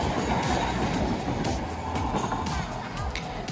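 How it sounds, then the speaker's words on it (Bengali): The Darjeeling toy train rolls around the Batasia Loop as a steady, loud rumble of wheels and carriages, with clattering rail noise throughout. "দেখো আবার চোখের সামনে চলে এসছে সেই টয় ট্রেন"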